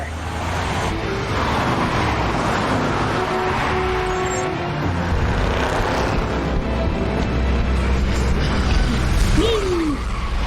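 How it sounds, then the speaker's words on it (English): Car engine roaring during a chase in the video game The Wolf Among Us, a loud, sustained drone that swells and pushes through the whole stretch, ending with a sharp rising whine, while a voice talks over it. "We're chasing a car."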